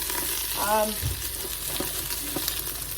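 Green beans frying in bacon grease in a pan, a steady close sizzle with a few stirring clinks and scrapes and a brief tonal squeak near the start, no voices.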